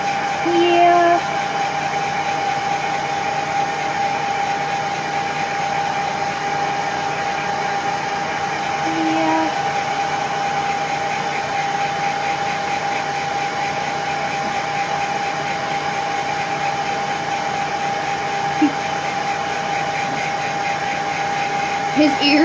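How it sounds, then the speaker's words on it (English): A hair dryer blowing steadily while a dog's fluffy ears are dried, a loud constant whirring drone that holds unbroken from start to finish. "if I don't blow dry them, they get all matted up"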